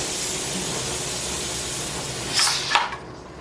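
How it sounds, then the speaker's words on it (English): Steam pours from a pressure canner in a steady, loud, broad hiss that surges twice near the end, then cuts off to a quieter tone. "I always get nervous because that's a lot of steam. That's hot coming out of there."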